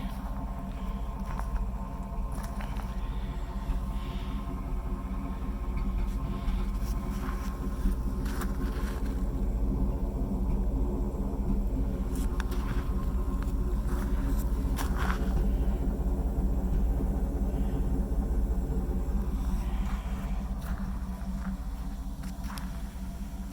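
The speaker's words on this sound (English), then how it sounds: "Here's that Flowmaster exhaust system we built for it. It's just sitting here just purring." A 1986 Chevy Camaro IROC Z28, third generation, idles steadily through a custom Flowmaster exhaust, a deep continuous low rumble held close and unchanging for the whole stretch, with faint outdoor noise and occasional light knocks on top.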